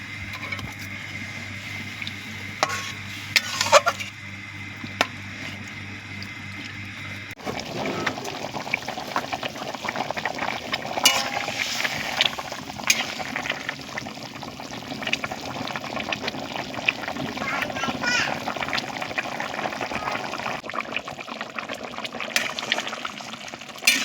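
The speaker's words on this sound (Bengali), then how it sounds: "এইবার যে মশলা মাখানো যে জলটা আছে, জলটা দিয়ে দিলাম চিকেনের মধ্যে।" Spiced water poured into chicken cooking in a pot, a steady close pour and bubbling liquid that carries on at an even level for a long stretch.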